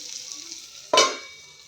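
Raw banana curry frying in a pan, a soft sizzle followed by one sudden loud burst of hissing as it is stirred, then fading back down.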